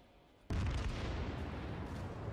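Warship main guns firing in World of Warships: a sudden loud, broad blast that holds as a sustained roaring rumble for the rest of the moment, with no voices.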